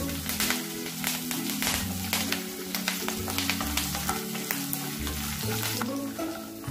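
Garlic and curry leaves fry in hot oil in a pan for spiced puffed rice, a loud continuous sizzle broken by repeated scraping and clattering stirs.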